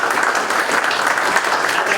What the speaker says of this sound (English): let's give another round of applause to Matt